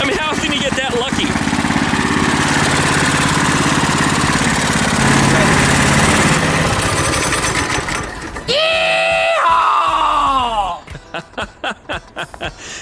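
A KT196 go-kart engine fitted with a new Hipa carburetor revs loudly and steadily up close, then drops and surges in pitch before settling into a choppy, pulsing idle.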